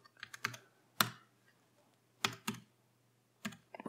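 A new password is typed on a computer keyboard, with a few sharp, close key clicks in small irregular bursts separated by quiet pauses.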